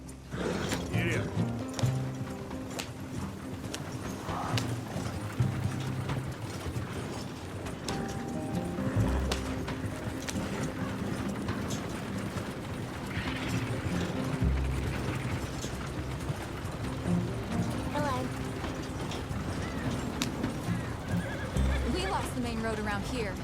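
A horse in Red Dead Redemption 2 whinnies and its hooves clip-clop along, with mechanical clicking and ratcheting in the game world, all under steady conversation between characters.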